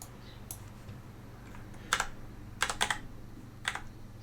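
Keys clack on a computer keyboard in a few short bursts of quick taps with gaps between them, close by over a steady low electrical hum, with no talking.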